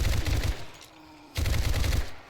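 Rapid automatic weapon fire from a gun in the video game 7 Days to Die, loud and close, comes in two bursts split by a short pause.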